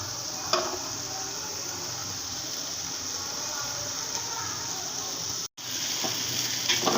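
Fenugreek greens with onion, green chili and potato sizzle and fry in a pan, a dense, steady crackle up close that runs continuously with a brief dropout near the end.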